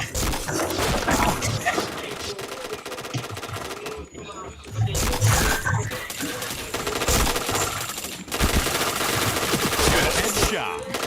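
Gunfire rattles through a shooting video game in rapid bursts of shots, loud and dense, stopping for brief gaps. Game sounds and a speaking voice mix in with the firing.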